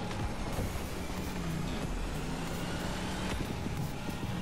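Car engine in a multi-stage racing video game, a Mini driven hard, revving continuously and loudly with a steady drone throughout, no talk over it.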